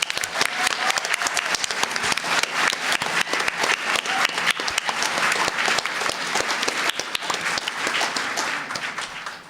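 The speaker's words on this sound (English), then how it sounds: "So I'm going to give them a round of applause here." An audience at a convention voice-acting panel claps in a sustained round of applause, dense and steady before tapering off slightly at the end, with no speech over it.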